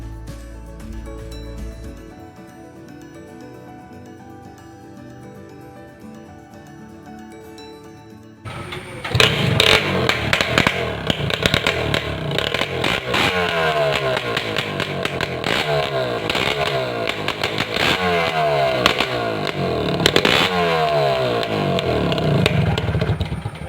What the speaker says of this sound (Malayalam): നമുക്ക് അടുത്തത് GI പൈപ്പ് വെച്ച് ഉണ്ടാക്കിയ കസ്റ്റം ഫ്ലൂട്ട് വെച്ച് നോക്കിയിട്ട് അതിന് സൗണ്ട് എങ്ങനെയുണ്ടെന്ന് ചെക്ക് ചെയ്യാം